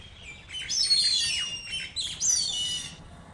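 Hornbills calling in Delhi: a few loud, harsh squawking calls in two close bursts, fairly near and alone with no talk.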